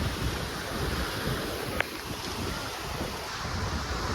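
Waves rolling onto a beach at sunrise near Visakhapatnam, a dense continuous roar of surf mixed with heavy wind buffeting the microphone, with one brief sharp click partway through.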